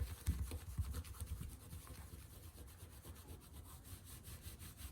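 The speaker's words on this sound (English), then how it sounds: "I kind of just stick my finger in the channel and run back and forth." A fingernail runs back and forth along the channels of chenille embroidery fabric, roughing it up to fray it, giving a steady close scratchy rubbing with repeated strokes and no talk.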